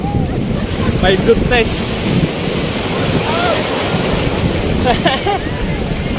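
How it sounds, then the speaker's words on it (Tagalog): Rough ocean surf crashes and churns against heavy wind buffeting, with a person exclaiming briefly and other voices shouting faintly. "Lakas ng alon guys."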